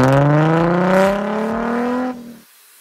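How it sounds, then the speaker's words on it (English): A Ford Mustang's six-cylinder engine exhaust, home-modified, revs loudly, rising in pitch for about two seconds before the throttle drops and the roar fades off. "These devices reduce the sound of the six-cylinder engine installed in the Mustang"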